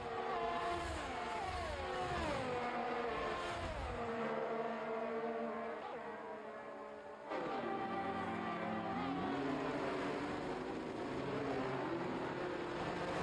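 A Ferrari race car screams past during a race in Austin, its engine note sweeping up and down through gear changes as other cars roar nearby, loud and continuous with no talk.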